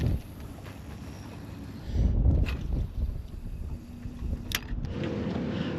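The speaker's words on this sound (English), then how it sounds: "wind's kicked up" Steady wind buffeting over open water around a small fishing boat, a broad continuous rush that swells louder in gusts midway and again near the end, with no talking.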